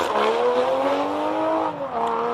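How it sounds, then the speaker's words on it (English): A Toyota Supra launches hard off the line at a hillclimb, its engine note climbing steadily through a single gear before a brief dip and renewed pull, loud and close throughout. "Let's see what Feroz can do in the Toyota Supra."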